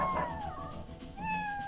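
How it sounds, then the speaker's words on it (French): A cat meows in the video game Dog's Life, two clear, drawn-out tonal cries close by, the second rising after a short pause, over a low rumbling background. "Il y a un chat!"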